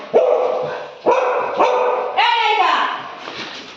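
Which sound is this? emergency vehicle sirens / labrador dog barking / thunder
labrador dog barking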